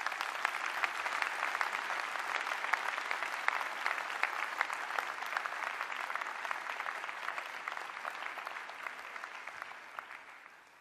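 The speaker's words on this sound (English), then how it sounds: "you deserve a very big round of applause on your graduation" Sustained, dense applause from a large audience at a university graduation ceremony, loud and even for about ten seconds before fading slightly at the end.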